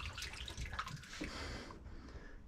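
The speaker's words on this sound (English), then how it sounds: "Water should come out of here once I open this valve." Water gushes through an opened through-hull ball valve on a wooden liveaboard boat, a steady splashing rush that tapers off as the flow stops.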